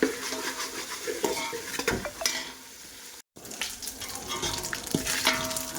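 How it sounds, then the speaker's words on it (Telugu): Ginger frying in a pan for Andhra dum biryani, a continuous crackling sizzle with a spoon stirring and scraping against the pan, briefly interrupted by a short silent gap. "అల్లం బాగా ఫ్రై అయిపోయింది."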